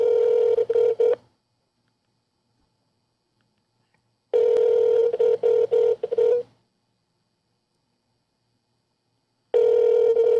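An outgoing phone call rings unanswered: loud, close electronic ring bursts of about two seconds each, separated by long silent gaps, three rings in all.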